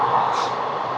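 The Tirupati Express running at speed, heard from inside as a steady, loud rumble and rushing roar with no breaks.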